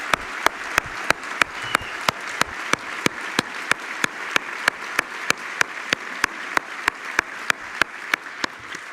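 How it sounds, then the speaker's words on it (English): A graduation ceremony audience for an MBA class in Singapore applauds in a steady, evenly spaced rhythm of crisp claps, sustained over a soft hall wash, with no talking. "hearty round of applause"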